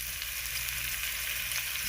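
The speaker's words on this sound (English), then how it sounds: "we're going in with our shrimp, and we're just gonna" Shrimp searing in a hot pan for pasta salad, a continuous even sizzle and crackle heard up close, steady throughout with no voices over it.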